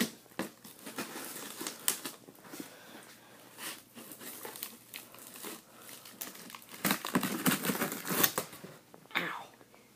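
Close, irregular crinkling, tearing and rustling of cardboard and packing material, with scattered sharp rips and thumps, and occasional voice sounds in between.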